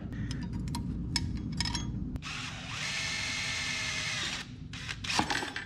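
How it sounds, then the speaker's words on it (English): A power drill bores out a small hole to 1/4 inch while working on the fuel system linkages of a 1930 Ford hot rod, a steady whirring run of about two seconds amid tool handling and clatter, close up. "That little hole, I was just drilling out to 1/4 inch."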